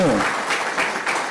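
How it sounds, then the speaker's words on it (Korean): A church congregation claps together, a dense close burst of applause filling the whole short moment. "박수 한번 칩시다. 하나님께."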